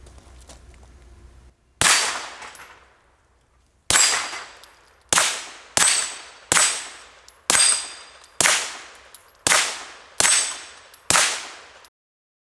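A Taurus G3 Tactical pistol with a threaded barrel fires outdoors in sharp, loud, close reports: two single shots, then a quick string of eight shots at a steady pace, each with a short ringing tail.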